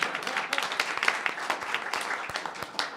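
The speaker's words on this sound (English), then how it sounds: "I give Vincenzo's a round of applause." Audience applause for a restaurant during a lunch gathering: a few seconds of dense, steady clapping from a room full of people, with faint voices mixed in.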